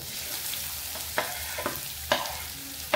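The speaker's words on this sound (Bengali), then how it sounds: "তেল গরম হয়ে গেছে, এবারে দিয়ে দিচ্ছি কেটে রাখা পেঁয়াজ" Chopped onion dropped into hot mustard oil with nigella seeds, a steady close sizzle with a few sharp crackles and spatters standing out.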